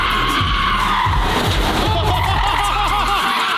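Lamborghini car tires skidding while sliding around corners, loud, close and repeated squeals that rise and fall over a roaring engine, with a faint murmur of voices in the background.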